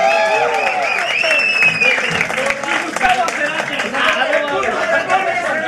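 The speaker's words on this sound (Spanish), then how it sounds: "un fuerte aplauso" A live concert audience applauds band members being introduced, with dense clapping, cheers and chatter, and a voice speaking over the crowd.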